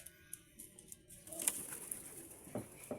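Pigeons in a loft with newly hatched squabs give soft, low coos and a few short sharp calls, fairly close, with light rustling between them.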